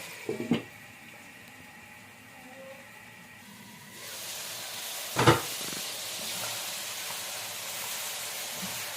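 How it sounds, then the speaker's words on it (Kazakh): Chicken fries in a cast-iron cauldron with a soft, steady sizzle that rises after a brief clatter, broken once by a metallic clunk as the lid goes on. "Дәмі күшті болып қуырылып жатыр."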